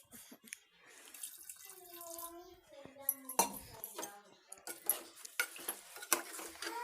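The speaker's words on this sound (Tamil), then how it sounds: "அதுக்கப்புறம் தண்ணி 1 கிளாஸ் ஆட் பண்ணிக்கலாம்" A glass of water poured into chicken kurma cooking in a pan, a short splashing pour followed by liquid sloshing and clinking of utensils against the pot, close and moderately loud.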